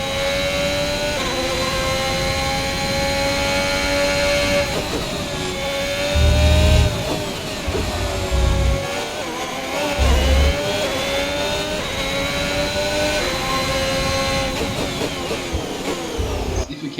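A Formula 1 car engine screams in F1 2021, holding a high steady whine that dips and climbs again as gears shift, with brief low thumps from the car underneath.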